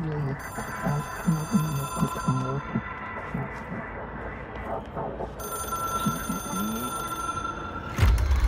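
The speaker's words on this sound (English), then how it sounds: "Why is the phone still ringing?" A telephone rings in the video game Control, a repeating high electronic trill sounding in two bursts over a low ambient hum while a person talks through the first half.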